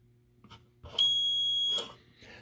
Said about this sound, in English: it would set the alarm off.